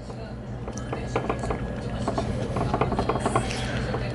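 Small screwdriver turning out the four screws on a DJI Phantom drone camera, a close run of faint ratcheting clicks and scraping turns over a low hum.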